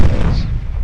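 A single heavy naval gun blast from the cruiser USS Baltimore in the naval warfare game Ultimate Admiral: Dreadnoughts, a loud, close boom with a deep low-end thump that decays quickly into a rumbling tail.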